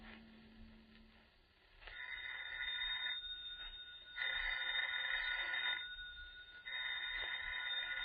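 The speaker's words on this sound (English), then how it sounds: "Miss Goddard, answer the phone, please." A telephone rings in an old-time radio horror drama, sounding in several long bursts separated by short pauses, fairly clear with no talk over it.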